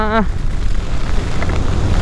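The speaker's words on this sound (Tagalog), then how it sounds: "Kasi ang lakas ng ulan." Heavy rain falls during a long-distance motorcycle ride in the Philippines, a loud, constant hiss and roar mixed with wind buffeting the microphone and a brief tonal whine at the start.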